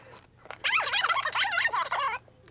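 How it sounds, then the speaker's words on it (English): Worn 1988 Roger Rabbit pull-string toy voice box playing: a warbling, wobbly, distorted voice that rises and falls in pitch for under two seconds, loud and close, with no other talk. "when you pull it, it plays the tiny little music box and it says phrases"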